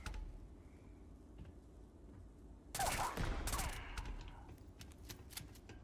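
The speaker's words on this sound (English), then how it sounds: "your friend's getting shot up right there" A short volley of gunfire in the space game Starfield, a cluster of sharp cracks bursting out of quiet ambience, followed by a few fainter scattered shots.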